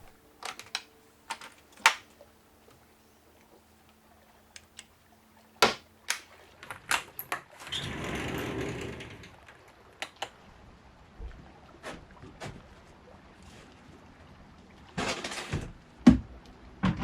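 Fingers tap on a laptop keyboard aboard a liveaboard boat at night, quiet scattered clicks in short bursts with pauses between, a brief soft rustling swell in the middle and a faster flurry of keystrokes near the end.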